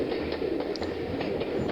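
Heritage train on the East Lancs Railway, passing the gap between two tunnels, rumbling steadily and close by with rhythmic wheel clatter and faint metallic squeals, no voices.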